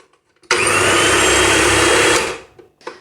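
Small kitchen food processor run empty for a short burst, a loud steady whirring motor that starts abruptly, holds for under two seconds and then cuts off and winds down.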